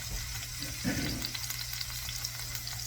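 Meat browns in a soup pot, a steady wet sizzle that swells into a brief scraping stir partway through, close and continuous, with a low hum underneath and no speech.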